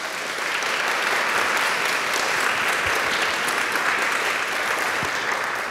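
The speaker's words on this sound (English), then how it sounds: "Would you join me in giving her an applause?" An audience at a women's climate-participation event gives a sustained, even round of applause for Mary, a thick wash of many hands clapping at steady loudness for several seconds.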